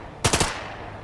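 Gunfire in the video game The Lamplighters League: a short burst of three rapid shots, close and sharp, each followed by a quick decay against quiet background noise.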